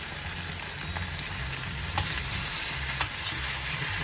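Asafoetida sizzles in hot oil in a pan while frying for mango rice, a steady bright crackling hiss with a few small pops and clicks from stirring.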